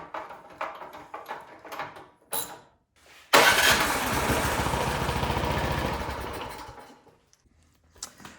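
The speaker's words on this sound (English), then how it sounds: "shot of starting fluid. And just make sure that it fires" A Craftsman snowblower engine, primed with starting fluid and normally hard to start, is first heard as scattered mechanical clicks and knocks, then fires and runs loudly for about three and a half seconds before dying away.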